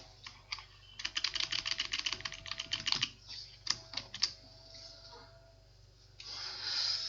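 Rapid bursts of keystrokes on a computer keyboard while code is typed into the Eclipse IDE on Windows 10, close and quiet, with short pauses between runs and no talking.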